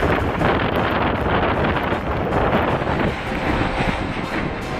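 Cyclone Yaas winds roar across Bengal and Odisha, a loud, continuous rushing gale buffeting the microphone with unsteady gusts throughout.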